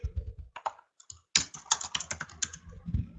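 Fast bursts of JavaScript typing on a computer keyboard, close and clear, with uneven clusters of key clicks separated by short pauses.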